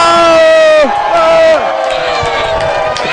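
A crowd inside a sports-talk studio building cheers and whoops loudly and steadily, with raised voices carrying over a constant roar that holds through the whole stretch.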